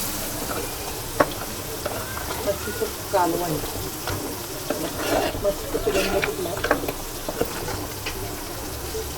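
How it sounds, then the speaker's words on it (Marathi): Fish fries in a pan over a low gas flame with a steady crackling sizzle and occasional spatter, while someone talks over it at moderate distance. "फ्राय करते आहे मी मच्छी"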